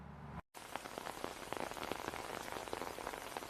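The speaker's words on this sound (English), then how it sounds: "I can just wait for the rain to let up and walk by myself." Steady rain falls and patters on a surface after a short break, a dense hiss with scattered louder drops, close and alone without voices.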